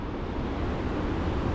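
Surf at Little White Ghost Beach in eastern Australia, near Byron Bay: a steady, dense wash of breaking waves mixed with wind rushing over the microphone, with no voices.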